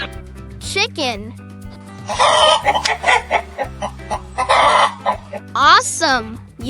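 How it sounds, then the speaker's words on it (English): Chickens cluck and squawk in busy, scratchy bursts over light background music, with brief tonal flourishes near the start and end. "Chicken."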